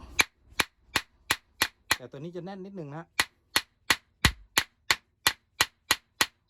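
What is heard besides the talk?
hammering to adjust the blade of a wooden hand plane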